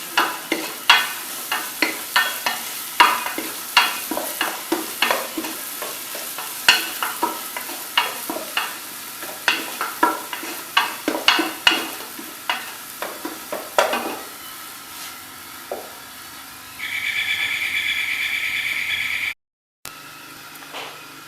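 Pink-fried onions with ginger garlic paste sizzle in a pan for a dish of tinda sabzi, with repeated scraping stirs over a steady fry, then a louder, even sizzle near the end.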